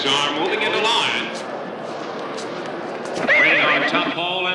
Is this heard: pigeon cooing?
no